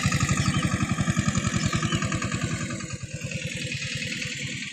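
A close, loud tractor engine chugs with a steady, rapid thumping rhythm throughout, easing slightly partway through before settling back.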